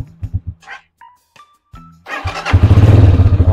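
A motorcycle engine is push-button started on a battery built from 32650 LiFePO4 cells: a few starter cranks and short beeps, then the engine catches and settles into a loud, fast, throbbing idle close by.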